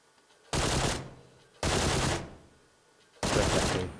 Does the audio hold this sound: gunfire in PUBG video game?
yes